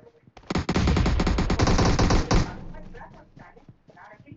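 Rapid video-game gunfire rattles out in one sustained, loud automatic burst of about two seconds, then stops, with players talking over and after it.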